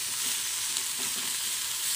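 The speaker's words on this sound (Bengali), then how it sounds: "এদিকে মাছ ভাজি করে নিতে আসি, মাছটা ভাজি করে নিব।" Fish frying in a pan for an iftar meal, a steady broadband sizzle with faint crackles, continuous and close for the whole stretch.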